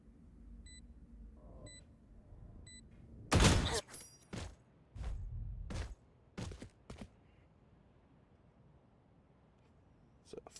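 Valorant gunfire during a competitive match, several sharp separate bursts and single cracks spread across a mostly quiet stretch, with a few faint beeps near the start.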